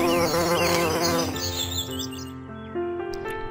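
Honeybees buzz close and loud while visiting flowers for nectar, a dense steady drone with shifting pitch that thins out toward the end, with no voices.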